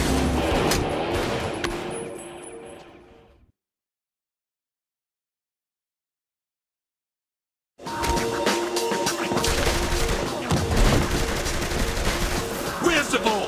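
Gunfire in the video game Saints Row The Third, dense rattling bursts of automatic shots and crashes, loud and continuous, cut by a few seconds of complete silence before resuming.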